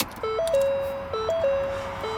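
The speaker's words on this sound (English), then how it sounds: "You get that standard Ford chime when you put the key in." Key-in warning chime from a 2017 Ford Escape SE 2.0L EcoBoost: a clear, repeating two-tone electronic chime cycling about three times in quick succession inside the cabin.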